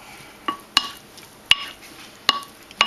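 Roasted garlic stirred into a mango avocado salsa in a bowl, heard as five sharp spoon taps and clinks spaced unevenly over a faint background, close by with no talk.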